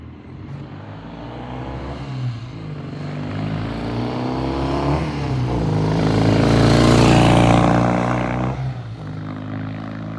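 A Triumph TR6 sports car on a test drive passes with a steady engine drone that swells as it nears, peaks loud and broad, then eases off as it moves away.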